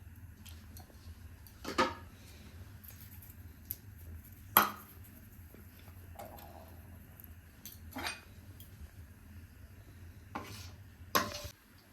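Oil and water being mixed in a bowl while making patishapta pitha: sparse light clinks and taps of a utensil against the bowl, quiet and intermittent over a low background hum.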